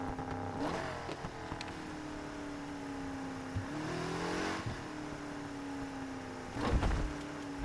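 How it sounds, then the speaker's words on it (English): A turbocharged car engine revving in the Need for Speed: Heat video game, rising and falling engine drone with gear changes and a few sharp whooshes, steady and fairly loud without talk. "That turbo sounds okay,"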